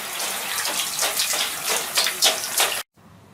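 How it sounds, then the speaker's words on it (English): Clothes being hand-washed in water, with broadband sloshing and splashing surges of varying intensity for nearly three seconds, then an abrupt cut to near silence; no talking. "then wash the clothes, because they're not dirty"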